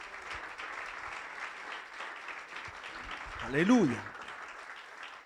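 A church congregation claps in a sustained, even round of applause, with a single voice briefly calling out near the end.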